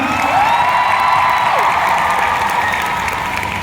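Sustained audience applause at a Thai fan meet, a dense, steady wash of many hands clapping loudly and evenly for the full stretch, with a faint whoop or cheer threaded through.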